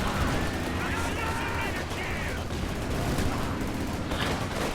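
Sustained gunfire rattles at Panzer Grenadiers during a Company of Heroes 2 battle: a steady barrage of shots and bursts at moderate level beneath a talking voice.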